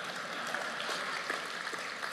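Soft, distant applause from an audience patters on for about two seconds, faint and steady with no talk over it.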